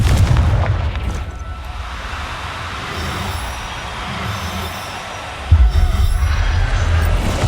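A Confringo fire spell detonates in Hogwarts Legacy on PC, giving a deep rumbling blast amid continuous game-combat noise, with a sharper, louder boom hitting near the end.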